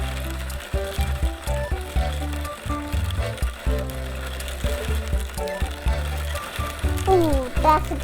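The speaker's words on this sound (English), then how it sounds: "Ooh, that's a coffee grinder." Toy coffee grinder spinner with turning gears, a loud close ratcheting clatter of rapid mechanical clicks repeating in uneven bursts, with a voice speaking briefly over it.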